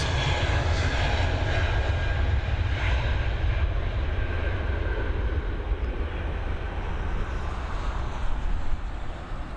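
A large airliner rolls down the runway on its takeoff run at Dublin Airport, a loud, steady jet engine roar that holds close and continuous throughout, with no talk.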